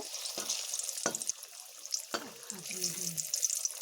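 Pieces of palm-fruit pitha crackle and sizzle in hot oil in a wok over low heat, a steady frying hiss broken by a few soft clunks and scrapes as each piece is dropped in.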